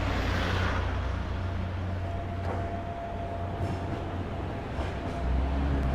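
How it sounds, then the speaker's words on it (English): A tram in Hong Kong rumbles past close by with a continuous low, heavy rolling roar and a faint high whine. The sound stays steady throughout, with no talking. "Tram."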